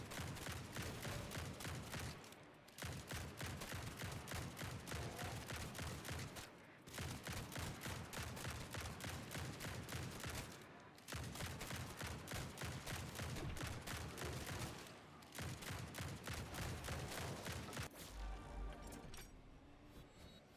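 Repeated shotgun blasts in the video game Grind Survivors, a dense run of sharp, rapid shots in steady bursts separated by brief pauses, loud and continuous throughout.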